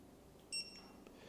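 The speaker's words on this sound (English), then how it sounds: "you hold this down for 3 seconds or until you hear the beep" A single short, high electronic beep from a dog training collar pairing, sounding once, faint against a quiet background.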